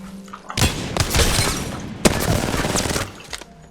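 Rapid automatic gunfire from a shooter video game comes in two loud, sustained bursts separated by a brief break, with heavy thumps and impact noise packed into each volley.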